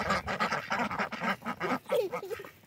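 Several ducks quacking at a lakeside in Ross, Westland, a repeated burst of calls, fairly close and moderately loud over outdoor background noise.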